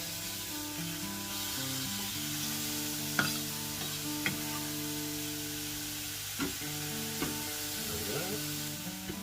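Roughly chopped vegetables sizzle steadily in a frying pan, with a few sharp scrapes and knocks from stirring, over a constant tonal background.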